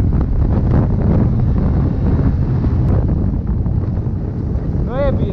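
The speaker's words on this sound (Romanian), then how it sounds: "e vânt rău aici" Strong mountain wind roars and buffets the microphone continuously on a snowmobile outing in the Bucegi Mountains, a heavy low rumble throughout, with a short chirping sound near the end.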